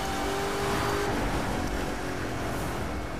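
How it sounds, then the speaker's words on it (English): A supercharged Corvette C7 ZR1 engine in the racing video game The Crew 2 roars steadily at high revs, loud and continuous with a whining tone throughout and no talk. "you hear that supercharger?"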